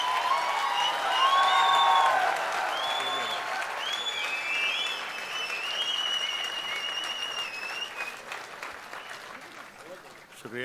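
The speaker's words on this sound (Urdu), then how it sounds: "ایک بار ذرا زوردار تالیوں کی گڑگڑاہٹ کریے۔" An audience at an Urdu poetry recital in Bhopal applauds loudly and steadily, the clapping fading slowly over several seconds while a voice speaks over it.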